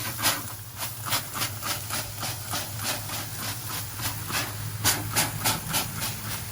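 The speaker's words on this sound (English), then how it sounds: "Squirt it on there, steam clean it." Repeated bursts of hissing steam as liquid is spritzed onto a hot grill, rhythmic sprays sizzling against a constant low hum.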